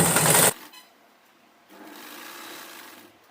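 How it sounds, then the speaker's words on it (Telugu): Sewing machine running a line of stitches along the lining fabric of a long frock, a loud burst at first, then quieter intermittent whirring close by. "ఇలా లోపల స్టిచ్ అనేది వేస్తాను."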